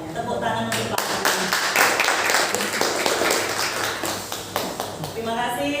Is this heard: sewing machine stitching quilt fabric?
no